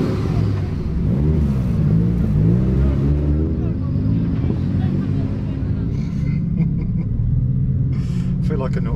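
A Lamborghini STO engine at a drift session drones loudly and continuously, rising and falling in pitch as it revs, with someone talking over it.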